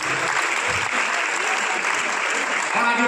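Seminar audience at a business-building event claps vigorously and continuously, a dense, loud wash of many hands with faint voices mixed underneath.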